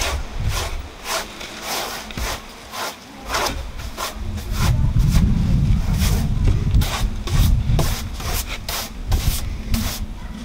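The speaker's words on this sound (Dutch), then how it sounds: "De schuurmachine overheen." A power sander works over a wooden workpiece, making repeated rhythmic rasping strokes with a low motor hum that swells in the middle, close and fairly loud.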